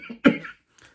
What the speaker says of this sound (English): Sorry, I have coughing.